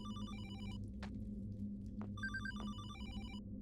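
A telephone in an abandoned, rubble-strewn building in a tech noir survival horror game rings with repeated electronic bell bursts separated by short pauses, over a steady low ambient hum.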